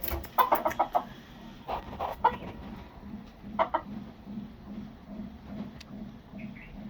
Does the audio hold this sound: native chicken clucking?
yes